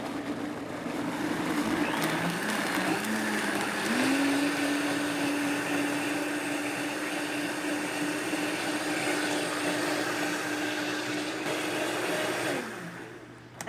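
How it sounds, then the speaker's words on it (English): A blender steadily purees a salted green goddess ranch dressing with spinach, its motor whirring loud and continuous, climbing to a higher, steadier pitch partway through and then cutting off near the end. "Let's puree it and see how green our goddess can be."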